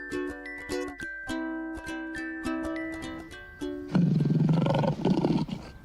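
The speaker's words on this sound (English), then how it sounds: "Why do some lions have a furry fur?" A lion roars loudly and close, a series of deep drawn-out calls that build in force and end in a rough, breathy final roar, with no voices present.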